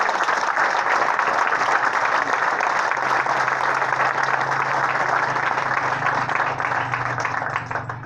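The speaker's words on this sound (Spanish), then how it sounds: "Gloria a Él y den un aplauso al Señor." A church congregation claps long and densely, a sustained roar of hands lasting about eight seconds, with a low steady tone humming beneath and the applause tapering slightly at the end.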